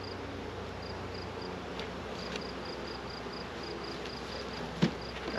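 Faint buzzing of bees around beehive boxes, a soft continuous hum under low background hiss with a few small knocks and one brief clunk near the end.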